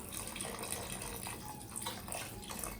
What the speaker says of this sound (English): Let me put this whole thing of beef broth in here.